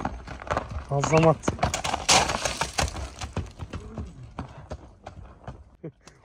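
Horse hooves clop in a loose rhythm as a horse is ridden at a Kyrgyz horse market, with people talking loudly over the steps.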